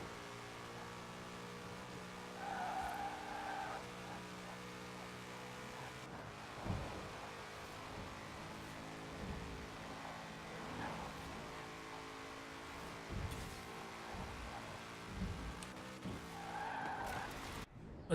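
A KTM race car in the Forza racing game skids through a run, with a continuous engine drone and tire scrubbing at low, even volume and no talking.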